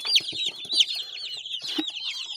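Young 45-day-old farm chickens cluck and chirp in a quick, overlapping series of short calls, fairly close and with no talking.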